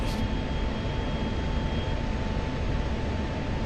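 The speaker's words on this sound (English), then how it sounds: "I'm taxiing and taking off." A fighter jet taxiing and taking off in the DCS flight simulator gives a loud, steady engine roar with a sustained whine, continuous and unbroken throughout.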